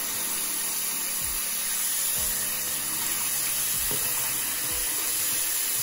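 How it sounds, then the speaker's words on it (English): Water running from a kitchen tap into a container, a steady hissing, splashing stream heard close up with a few faint low knocks, no talking. "I'm just gonna fill it up with water"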